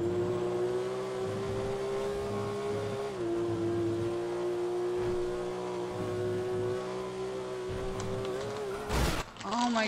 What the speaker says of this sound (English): This car is loud as shit.